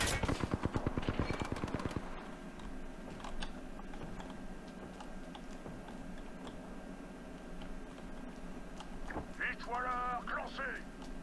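Rapid automatic gunfire in the video game Apex Legends bursts loudly for the first two seconds, then gives way to softer game sounds and scattered shots, with a player speaking French over it.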